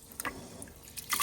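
Soaked glutinous rice for suman being washed by hand in water, with soft sloshing, trickling and drips in short bursts, clearer near the end.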